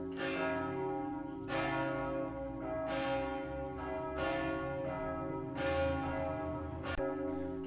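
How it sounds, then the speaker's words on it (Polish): Church bells tolling in the early morning to announce the death of a priest, a slow series of heavy strikes about every second and a half, each ringing out and overlapping the last, with no voices. "Wczesnym rankiem dnia 14 stycznia 1993 roku bicie dzwonów oznajmiło śmierć księdza infuata Alfonsa Groszkowskiego."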